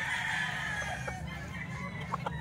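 Roosters and stags at a Saturday chicken market in Baliwag, close crowing and clucking over a busy, noisy background with a few sharp short calls near the end.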